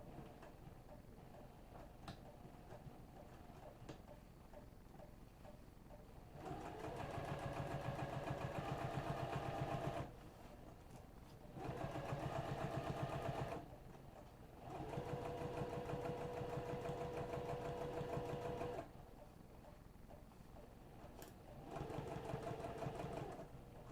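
A sewing machine stitching a business bag runs in several steady, fast mechanical bursts of several seconds each, separated by brief pauses, close and clear.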